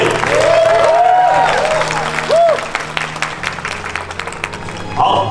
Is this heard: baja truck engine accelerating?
no